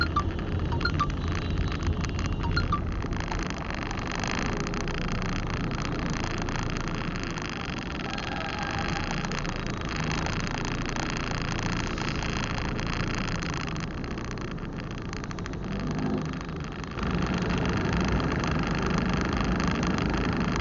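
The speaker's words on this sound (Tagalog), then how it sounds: "that's why we are stuck on traffic" Road traffic at the EDSA and Aurora Boulevard intersection in Cubao, with a steady, continuous rumble of car engines and idling vehicles in stop-and-go congestion, heard from close by and without speech.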